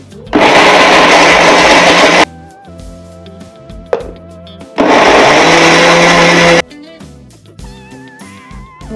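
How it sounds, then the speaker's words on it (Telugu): A kitchen mixer grinder grinds cooled roasted coconut pieces into powder in two loud, steady whirring bursts of about two seconds each, with a quieter pause and a clunk between them and soft background music after each burst. "ఈ కొబ్బరి ముక్కలు కొద్దిగా చల్లగా అయినాక మిక్సీలో వేసుకొని పౌడర్ లాగా చేసుకోవాలండి"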